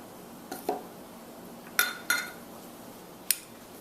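Cutlery mashing a peanut butter and candy mixture in a bowl, a few sharp close clinks and scrapes spaced irregularly over a quiet background.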